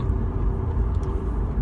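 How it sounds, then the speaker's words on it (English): Steady low road rumble from a car on a short test drive checking that newly rolled fenders clear the tyres, a continuous close engine and tyre drone with no talking. "we're on a little test drive right now, making sure that the fender's clear"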